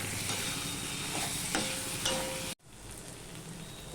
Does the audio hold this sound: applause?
no